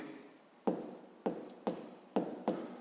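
Handwriting in a maths exercise, five or six short distinct pen or chalk strokes in a quiet room, each a sharp scratchy tap at an irregular rhythm.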